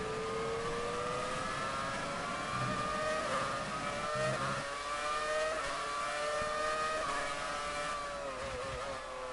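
An F1 race car engine in the F1 2019 game during the Japanese Grand Prix, a high continuous whine holding steady as it passes another car on the straight, with gear-shift dips and no talk.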